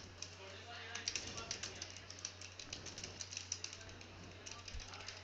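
Keys tapped on a computer keyboard while a pharmaceutical manufacturing software form is filled in, quick irregular clicks in short bursts, faint and close, with someone talking over them.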